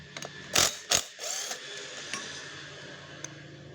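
A Maruyama CBC20 brush cutter engine, opened up for an overhaul, gives a few sharp metallic clacks close up, two loud ones early then fainter scattered ticks against a quiet background.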